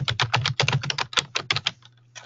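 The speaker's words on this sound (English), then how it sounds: "I don't know if you could hear my mad typing" Rapid typing on a computer keyboard, quick bursts of crisp clicking keystrokes in an uneven rhythm, close and clear, trailing off at the end with a low hum underneath.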